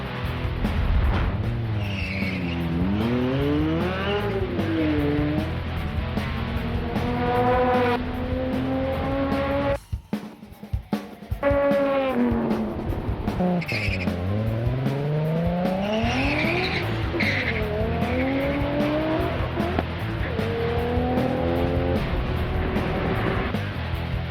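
Street race cars in a street car challenge accelerate hard through the gears, loud engine notes climbing in pitch repeatedly, with a brief drop at a gear change and tire noise mixed in.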